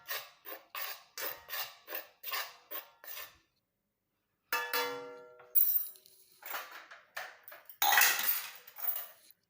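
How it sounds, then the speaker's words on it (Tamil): A spoon scrapes and stirs two dry powders together in a bowl for a hair-colour mix, in a steady run of about ten short rasping strokes, then a pause and a louder, denser burst of scraping. No one speaks. "அதுக்காக இப்போ 2 பவுடரையும் நல்லா கலந்து விட்டுறலாம்."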